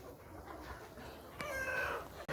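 Roosters in a shed give short clucks and a brief crowing call, faint against a steady background hum with no talking.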